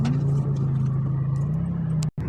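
A car engine rumbles steadily nearby, passing with a low sustained drone before cutting off abruptly near the end.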